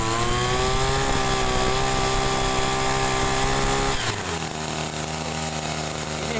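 A knapsack sprayer's small engine revs hard during carburetor adjustment, a loud buzzing whine held high before dropping to a rougher, lower idle partway through.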